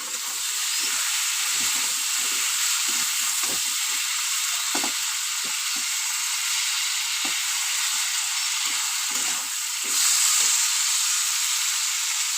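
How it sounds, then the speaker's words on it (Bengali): Cabbage frying in a pan, a steady loud sizzle and hiss running throughout, with light intermittent stirring and clinking sounds beneath. "বাঁধাকপি রান্না করছি আমি আজকে"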